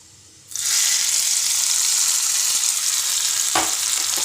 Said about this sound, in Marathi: आता हा तडका चटणी टाकून द्यायचा